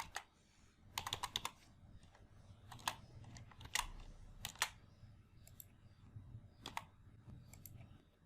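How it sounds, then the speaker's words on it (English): Computer keyboard typing for an Excel spreadsheet entry, quiet close-up bursts of sharp key clicks in irregular clusters over a soft background hum, with no talking. "Type Business History in this box."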